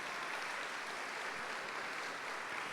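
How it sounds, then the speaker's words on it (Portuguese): A church assembly audience claps together, a dense steady wash of applause that holds evenly throughout with no voices over it. "Vamos aplaudir a Assembleia"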